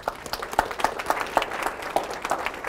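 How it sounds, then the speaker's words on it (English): An audience at a professional accounting update session applauds a speaker, a brief burst of scattered, moderately loud hand claps that stays steady throughout without speech. "A round of applause for Kimberly."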